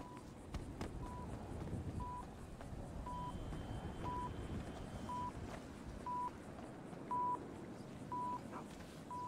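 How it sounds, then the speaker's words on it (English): A quiet electronic beep from a bomb in a video game repeats about once per second, steady and evenly spaced, over a rumbling ambient background. "I hear something beeping"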